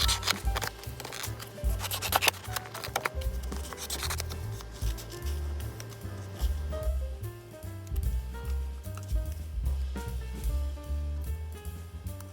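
Scissors snip out paper teacups at close range, with quiet crisp cuts and rustling paper, a soft low hum running underneath.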